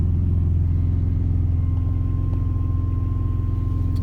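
A 2010 Rossion Q1 sports car idles steadily, its engine giving a continuous low, even rumble with a faint hum on top, close and unbroken for the full few seconds with no voices.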